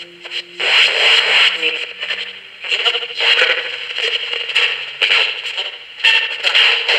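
Ghost box radio sweep from a CoopBox 22 with the echo effect engaged, a loud, harsh stream of scratchy static and chopped radio fragments in repeated surging bursts with short gaps between them.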